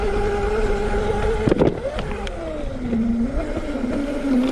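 A Hiboy DK1 electric dirt bike runs at full throttle in speed mode 3 over a jump, its motor whine shifting pitch steadily with a brief thump and rattle of landing partway through, recorded up close with wind noise.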